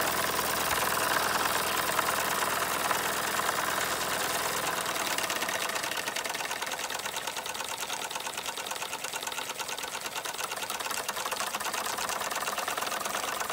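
Several small Doll & Co 510 model steam engines run together with a fast, even mechanical chatter and clatter, close and steady throughout with no voices.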